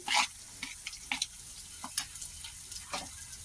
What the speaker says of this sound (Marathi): मी आता इथे कांदा घेत बारीक असा चिरून